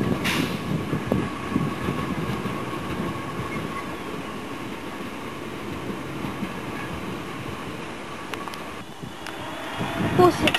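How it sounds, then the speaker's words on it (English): A Network SouthEast Class 465 electric train rumbles and hums at Orpington station, a steady rolling roar with faint clatter as it moves along the platform, while people talk. "Here are the Network Southeast 465. 465163 at Orpington."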